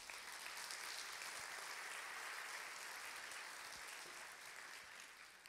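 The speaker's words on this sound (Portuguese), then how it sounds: "Você podia aplaudir ao Senhor por isso." A church congregation applauding during a Portuguese-language sermon, a steady wash of many hands clapping at once, fairly faint and distant, holding evenly throughout without talk.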